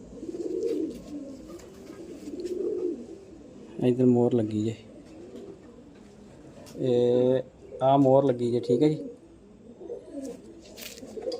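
Cooing double mor pigeons at an Amritsar pigeon-flying competition, heard as low throaty coos that rise in several strong bursts between stretches of someone talking nearby.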